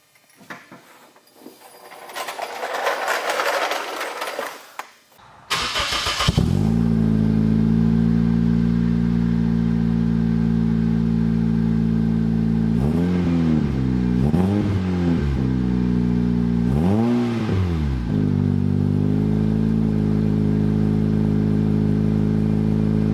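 A turbocharged Toyota Corolla engine with a new 3-inch exhaust cranks and fires up, then settles into a loud, deep idle with several sharp revs through a throaty exhaust.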